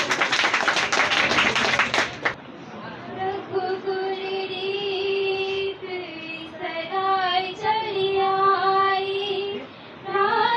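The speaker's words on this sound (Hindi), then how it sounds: "उत्साह बढ़ाइए तालियां बजाइए" Children and an audience at a Teachers' Day celebration at a coaching institute clap briskly for about two seconds, then the clapping stops and a song performance with a sung melody begins.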